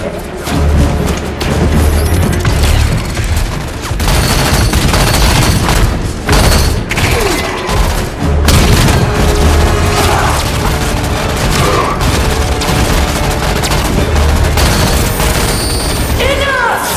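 Loud, dense Halo 5: Guardians battle with continuous rapid gunfire, booming explosions and crashing impacts, layered with game voices and a heavy, sustained roar throughout.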